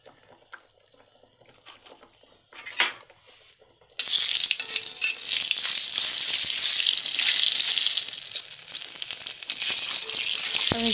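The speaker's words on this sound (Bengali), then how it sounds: "শুকনো লঙ্কা ফোড়ন দেওয়ার পরে জিরে ফোড়ন দিয়ে দিল।" Dried red chillies and cumin seeds hit hot mustard oil in a pan, bursting into a loud, continuous crackling sizzle after a few quiet seconds of faint kitchen clatter.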